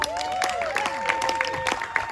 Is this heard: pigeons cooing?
no